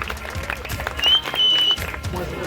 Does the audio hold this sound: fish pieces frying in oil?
no